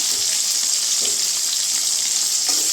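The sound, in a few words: tomatoes and salt frying while stirred in a pan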